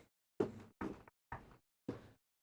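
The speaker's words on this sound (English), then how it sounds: "Knock on wood." Knuckles rap on wood in four separate, firm knocks spaced about half a second apart. Each is close and hollow, with silence between them.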